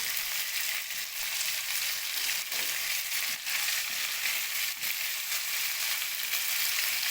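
Eggplant sautés in a hot pan, giving a steady bright sizzle and crackle with faint scraping now and then, continuous and close.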